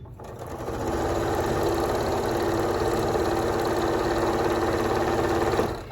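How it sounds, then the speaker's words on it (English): A sewing machine runs steadily for about five seconds, stitching fabric strips for a quilt wall hanging with a quarter-inch seam, its fast even whir close and loud, easing in at the start and stopping at the end. "you're going to just put it under your needle and start sewing"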